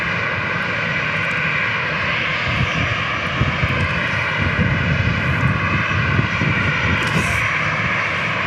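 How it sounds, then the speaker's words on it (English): Air National Guard F-16 jets at Tucson International Airport make a continuous loud engine roar that holds steady for the whole stretch, with no speech. "We have anywhere from 60 to 80 F-16s here in Tucson."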